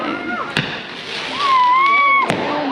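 Fireworks go off at Shifen Old Street in Taiwan, two sharp bangs and a rising whistle amid outdoor crowd noise, with people talking nearby.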